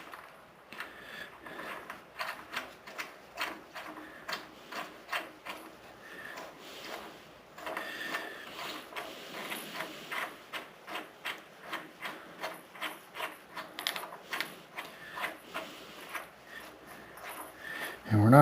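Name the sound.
installing crankshaft sprocket on Ford 460 engine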